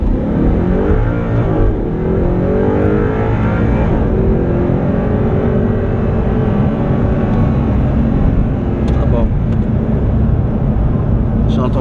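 An Audi R8 with automatic transmission accelerating on a busy road, heard from inside the car as a loud, sustained engine roar with rising pitch under a speaking voice.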